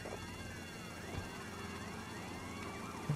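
An ambulance siren in GTA Vice City wails continuously with steady rising and falling sweeps, loud and close, alone with no talking.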